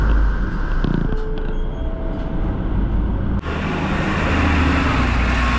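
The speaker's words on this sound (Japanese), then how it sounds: "バス停には西武鉄道のバスがやってまいりました" A Seibu Railway bus pulls up at a bus stop in Tokyo, its engine rumbling close by amid traffic noise. A sharp hiss of air brakes or doors cuts in partway through, then the idling drone continues. No one speaks.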